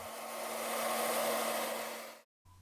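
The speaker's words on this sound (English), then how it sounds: "you can use a hairdryer to speed things up." A hairdryer blows steadily to dry a watercolor painting, a continuous fairly quiet whoosh with a faint hum that cuts off abruptly near the end, then briefly resumes.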